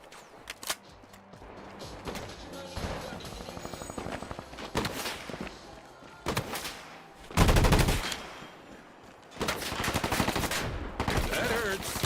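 Bursts of gunfire from the Combat Champions game ring out in loud clusters and rapid volleys, with lulls between them and a few footstep-like clicks underneath.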